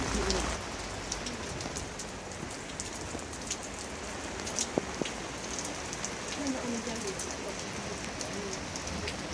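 Steady rain pattering on surfaces all around, a constant hiss with occasional heavier drops, fairly soft and with no one speaking.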